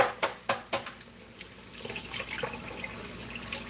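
Tap water rinsing boiled eggs in a kitchen sink: a few sharp clicks or taps at the start, then steady running water splashing at moderate volume.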